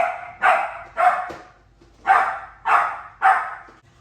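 A dog barks loudly and repeatedly indoors, six sharp, evenly spaced barks close to the listener with brief pauses between them, no talking over them.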